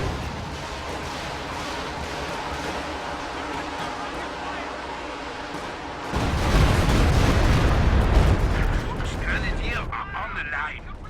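Heavy B4 howitzer barrages and explosions rumble in a Company of Heroes 2 4v4 match, a dense layer of booms that swells louder partway through, with a commentator talking over the battle.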